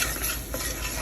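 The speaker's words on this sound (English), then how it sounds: "give it a nice little stir." Onion and ginger garlic paste get stirred in a pan while cooking North Indian rajma, producing a continuous soft scraping and sizzling hiss, close and steady, with no talking.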